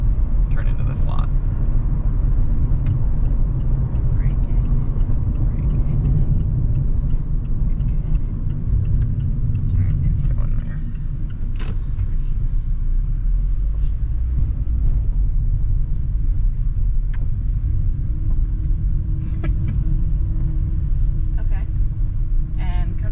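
A 2021 Mazda MX-5 Miata engine held in a low gear gives a steady, deep rumble from inside the car, with people talking over it throughout.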